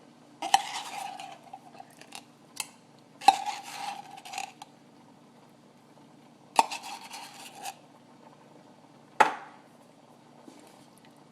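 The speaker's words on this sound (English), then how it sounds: "I'm going to get my sauces right. I'm going to stir that in really good." A utensil scrapes and clinks against a pot while sauces are stirred into Italian spaghetti, four sharp metallic knocks each followed by a brief swishing scrape, close and fairly quiet with silence between.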